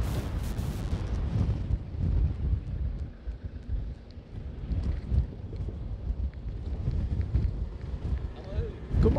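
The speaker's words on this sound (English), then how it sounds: "So yeah, it's a little bit windy." Wind on a Peak District hilltop buffets the microphone in loud, irregular low gusts, rising and falling for several seconds with no voice over it.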